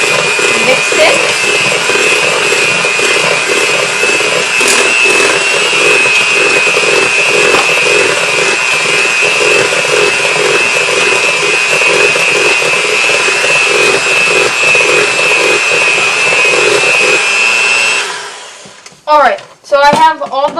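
Electric mixer beating cupcake batter with eggs and vanilla, a loud, continuous high-pitched whirring buzz held for about eighteen seconds before it cuts off, followed by brief clattering and speech.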